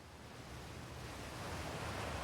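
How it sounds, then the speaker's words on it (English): Loud waterfall in the video game Outer Wilds, heard as a steady, dense roar of rushing water that holds constant throughout, with no talking. "The waterfall is quite loud."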